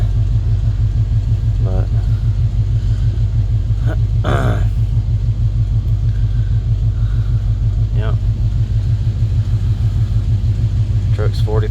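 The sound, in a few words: 1981 Chevrolet C10 truck engine idling after startup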